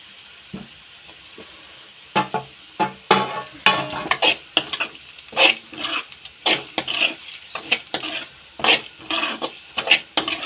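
Sabudana upma with ginger being stirred and fried in a pan, a spoon scraping and clattering in irregular strokes over a soft sizzle, close and fairly loud, with no talking.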